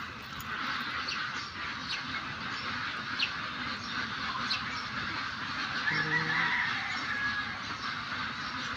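Peking ducks honk on a farm among young ducklings, a steady chorus of overlapping calls carrying across a busy outdoor flock, fairly distant and continuous.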